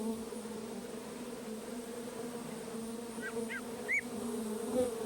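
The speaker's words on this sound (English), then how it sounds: "Honeybees are preparing for the frigid season ahead, building up their supplies of sweet nectar." Honeybees buzz in the North Woods as they gather nectar before winter, a steady, droning hum close by with a few brief chirps from other creatures over it.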